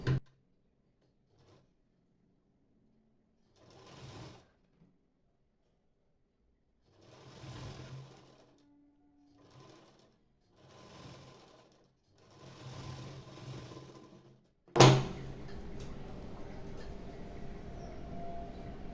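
A sewing machine stitches a bell sleeve onto a katori blouse in short separate runs of rapid mechanical ticking and whirring with pauses between, ending in a louder, busier burst.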